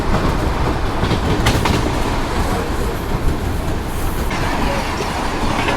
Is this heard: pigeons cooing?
no